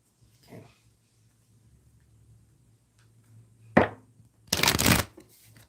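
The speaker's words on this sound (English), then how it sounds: "Let me shuffle these cards a little bit." Tarot cards being shuffled, a soft riffle early, then a sharp flutter and a longer burst of shuffling near the end against near silence.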